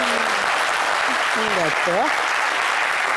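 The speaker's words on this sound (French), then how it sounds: "Applaudissez pour elle." Studio audience applause forms a steady, dense wash of clapping through the whole moment, with a brief spoken voice heard over it.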